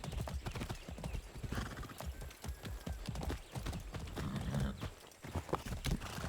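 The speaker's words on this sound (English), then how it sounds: "I need this horse. Keep it in one piece, okay?" Horse hooves clip-clop in quick, uneven beats with an occasional whinny in the video game Far Cry 6, close and moderately quiet, with faint game voices in the background.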